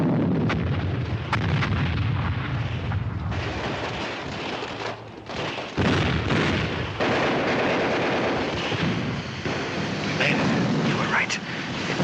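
Heavy gunfire and battle noise in a war film rumble continuously after a shouted command to fire, with dense overlapping bursts and booms, while voices speak over the din.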